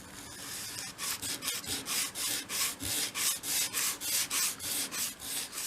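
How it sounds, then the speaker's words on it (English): Sandpaper folded into a crease rubs back and forth along grooves in a small wooden piece for a 1/12 scale shop project, a steady run of about fifteen close, even rasping strokes with no talk. "you can bring in a piece of sandpaper, make a little crease, and then work it into each of the grooves"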